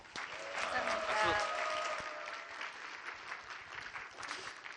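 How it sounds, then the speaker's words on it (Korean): A church congregation applauds during a Korean Sunday evening worship service, brisk scattered clapping mixed with voices and a brief tonal sound, moderately loud and tapering into lighter clapping. "박수해 주십시오."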